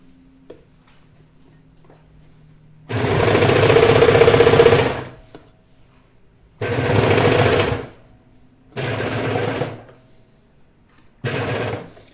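A sewing machine stitches through a thick section of a high-neck sweatshirt in four bursts: a long run of about two seconds, then three shorter runs, loud and close with quiet pauses between.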